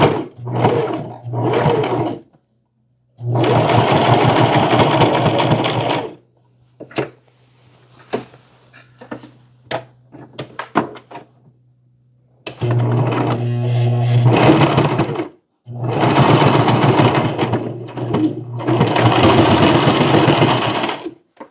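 Sewing machine stitching a garden saree into a maxi dress, running in several loud sustained bursts separated by quiet pauses with faint handling sounds between.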